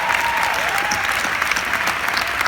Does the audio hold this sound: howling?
no